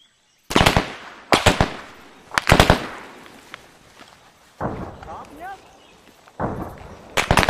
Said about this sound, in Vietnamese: Tiếp tục bắn.